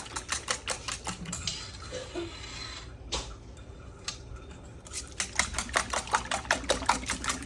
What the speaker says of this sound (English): So I'm going to whisk this right on up.